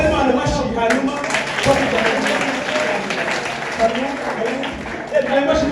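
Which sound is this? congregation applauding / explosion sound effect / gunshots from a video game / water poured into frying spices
congregation applauding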